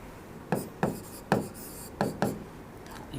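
Pen scratching on paper while a maths equation is written, a handful of quick separate strokes spaced about half a second apart, close and fairly quiet, with no talking.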